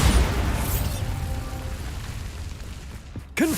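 A Bombarda spell explosion in Hogwarts Legacy, a loud booming blast at the start that rumbles and decays over a few seconds, ending with a short magical whoosh.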